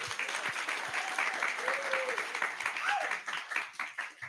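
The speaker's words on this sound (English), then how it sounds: "Give them a round of applause." Studio audience applauding for two guests on a talk show set, a steady round of clapping mixed with some cheers and voices, fairly loud and continuous throughout.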